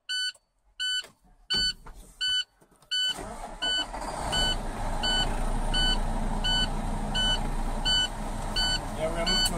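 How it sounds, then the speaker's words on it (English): A truck engine cranks and starts after a series of evenly spaced warning beeps, then settles into a loud, steady idle while the air brake system builds pressure, with the beeping tones continuing over the running engine. "So now we're going to start the truck up."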